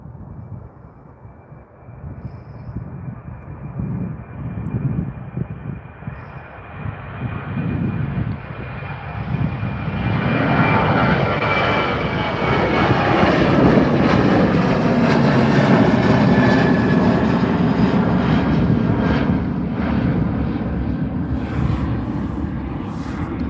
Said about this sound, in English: the other 737-700, sorry, is just rolling down the runway there now